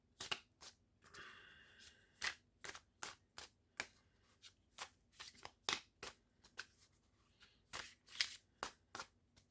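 Playing cards being shuffled, a series of crisp riffling bursts in an uneven rhythm, close and fairly quiet, with no talking.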